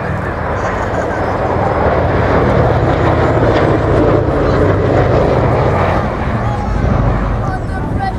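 Continuous heavy drone of a B-17 bomber's piston engines and propellers passing at an airshow, steady and loud throughout with a rough, throbbing texture.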